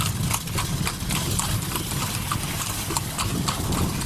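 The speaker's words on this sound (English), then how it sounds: "Horse carriage ride here in Granada, Nicaragua, with the Mombacho volcano in the background." Horse-drawn carriage clip-clopping through the colonial streets of Granada, Nicaragua, with steady hoofbeats on pavement close by over a constant background rumble and no talk.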